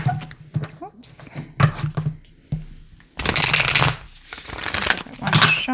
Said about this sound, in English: Give it one shuffle.